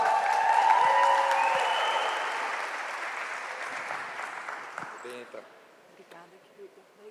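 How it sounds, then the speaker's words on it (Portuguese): An audience applauds as a speaker is welcomed onto a stage, with a burst of clapping that gradually thins out and dies away, leaving a few scattered claps and faint stage noise. "salve de palmas"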